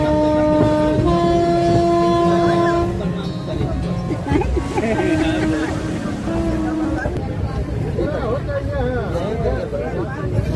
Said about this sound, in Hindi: अब हमारी ट्रेन समदलपुर जंक्शन पहुंच रही है।